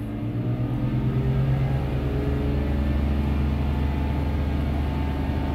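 BMW M54 inline-six with a lean-running, low-power fault as the gas pedal is pressed, a continuous close engine drone that rises a little and holds steady throughout, no talking.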